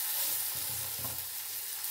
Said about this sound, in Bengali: এবারে পেঁয়াজটা আমি ভালো করে ভেজে নেব।